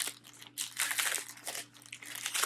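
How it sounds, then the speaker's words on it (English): A sealed plastic clothing package is ripped open by hand, producing continuous loud crinkling and tearing bursts close up with brief pauses between pulls. "So in order for me to try them here, I'm going to have to rip this open."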